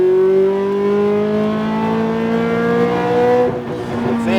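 Ferrari F430 accelerating hard out of a corner on a race track, its engine note rising steadily in a loud, continuous roar with a brief dip near the end.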